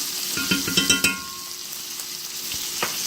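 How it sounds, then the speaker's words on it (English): T-bone steak frying in a pan with butter on top, giving a steady close sizzle broken by a few louder spatters and pops early on, then settling into a quieter crackle. "you can just kind of put your butter on top while it's cooking"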